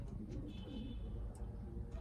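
A pigeon coos softly, low gurgling calls repeating over a quiet background with a faint chirp or two.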